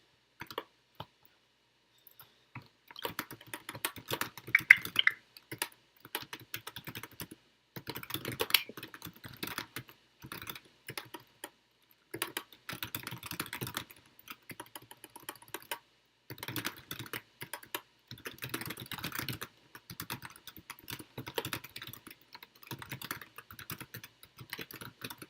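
Irregular runs of computer keyboard typing, close and crisp clicks in bursts separated by short pauses, with quiet gaps and no talk.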